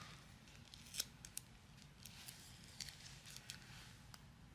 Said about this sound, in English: then I'm going to trim off the back